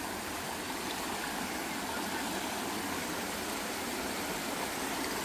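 Creek water at Clifty Falls along a rugged hiking trail, a steady broadband rush and babble that holds even and continuous throughout, moderately distant with no voices.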